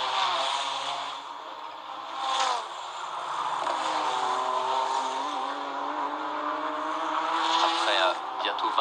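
A race car at the 1996 Le Mans 24 Hours pulls away again, its engine droning steadily at a distance while a commentator speaks over it.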